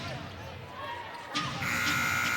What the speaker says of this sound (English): To beat the shot clock buzzer